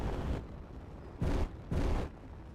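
Weapon fire and explosions in the video game Space Engineers during a space battle with turrets and ion beams, a rumbling boom fading out followed by two heavy, close blasts in quick succession.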